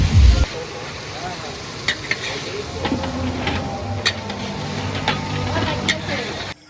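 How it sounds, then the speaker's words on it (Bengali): Meat is fried and stirred in a large pot at an outdoor community picnic, with a constant sizzle and scraping spoon sounds close up and voices in the background. "কাকা এখানে মাংস কষাবে এখন"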